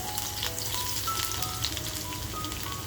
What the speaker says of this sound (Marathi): तर बघा आपलं तेल छान तापलंय. लसूण टाकूया अगोदर.